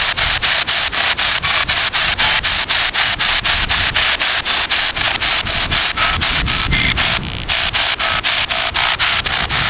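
A handheld ghost box at a cemetery sweeps through radio static in loud, harsh bursts of hiss, chopped by rapid regular gaps as it scans. It continues without pause and has no voices.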